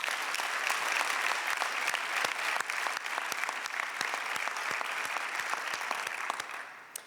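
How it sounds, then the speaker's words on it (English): Audience applause at a convention center naming ceremony in Detroit, a full, even roar of many hands clapping for about seven seconds before tapering off quickly, with no voices over it. "Please give yourselves a round of applause."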